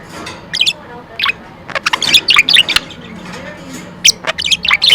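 A purple budgie chirps and squawks in quick bursts of sharp, high, close-up calls, with a person talking softly in between.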